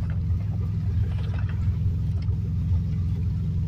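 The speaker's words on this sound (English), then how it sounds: "driving daddy's truck." A truck engine drives along, giving a steady low rumble that stays close and constant throughout, with no voices over it.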